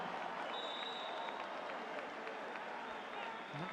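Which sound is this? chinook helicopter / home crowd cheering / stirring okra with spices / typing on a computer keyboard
home crowd cheering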